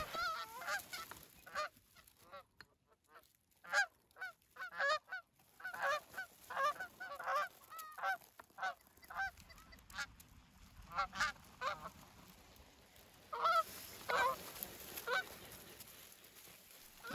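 Canada geese on a hunt over a tall hay field, honking repeatedly in a close, noisy flock overhead, the calls rising and falling in bursts with brief quieter gaps.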